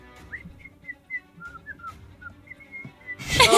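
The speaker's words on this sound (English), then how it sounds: "you hear insectoid chirps and whistles" Jaunty insectoid chirps and whistles from a dancing skeleton in a tabletop role-playing game: a string of short, high, whistled chirps over a quiet background, ending in a louder burst of noise.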